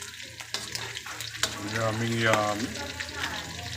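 Chicharong bulaklak sizzles in hot oil during its second fry, a loud, close crackling and bubbling that swells midway, with a short spoken remark at the start.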